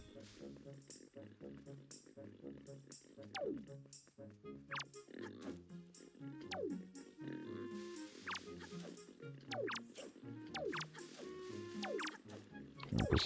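Repeated squeals and snorts from a pig in Zelda The Wind Waker, scattered through steady game music, with a few quick rising squeaks throughout.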